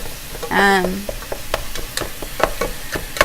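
Ground meat browning in a pan for taco soup, a steady close sizzle broken by a run of sharp spoon taps and scrapes, with a voice heard briefly at the start.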